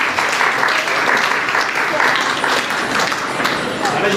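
An audience at an award ceremony at a girls' life-building camp in Vashi breaks into loud, sustained, dense clapping that carries on without a break.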